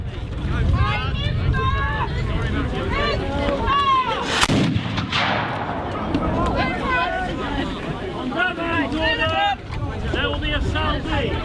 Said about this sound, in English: There will be a salvo.